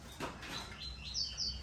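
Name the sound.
caged songbird singing, papa-capim or coleiro baiano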